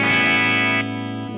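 A loud distorted electric guitar chord rings out through a Fractal effects unit, sustaining with a bright, saturated buzz before the upper harmonics cut off and a softer tail lingers briefly.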